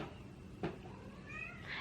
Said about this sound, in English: We have cats in the background